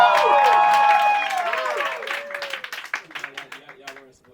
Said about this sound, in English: Y'all weren't supposed to clap yet.